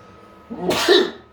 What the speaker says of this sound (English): Random sneeze, everyone.